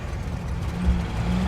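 A car engine in a scene from the film Interstellar revs and rumbles low and close as the driver shifts gears, a brief continuous growl with no speech over it.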